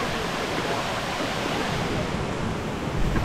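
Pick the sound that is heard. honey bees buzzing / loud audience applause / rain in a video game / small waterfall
small waterfall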